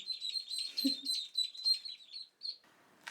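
Newly hatched ducklings peep in a high, thin, rapid stream of calls at close range, with a brief soft low murmur partway through and short pauses near the end.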